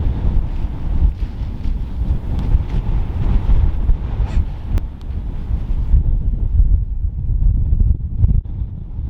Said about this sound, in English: I forgot how windy it is here in Dartmoor